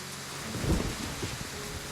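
Rain and thunder in the game Love and Deepspace, a steady wash of rainfall with a low muffled rumble of thunder swelling briefly, no voices.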